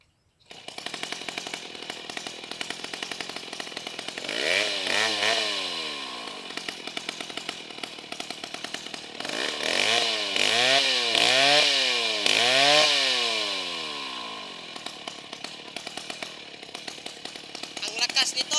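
A Stihl 070 chainsaw runs close and loud, idling with a steady buzzing drone and revving up in several rising and falling bursts, with people talking faintly in the background.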